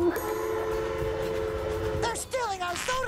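A train in the SpongeBob Cosmic Shake video game sounds a long sustained horn or whistle tone, then rising and falling whistle toots near the end, set against a busy game soundtrack.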